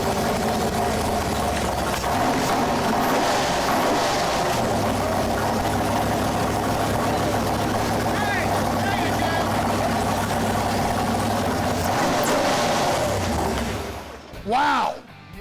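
A Yenko Camaro's freshly installed engine rumbles loudly and steadily close by, idling with a deep, constant drone before cutting off near the end; voices are faint beneath it.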